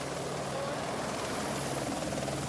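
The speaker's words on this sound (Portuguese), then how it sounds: "o apoio de 2 helicópteros equipados com metralhadoras" Two police helicopters equipped with machine guns fly overhead, their rotor chop a loud, continuous throbbing drone that fills the whole moment without a break.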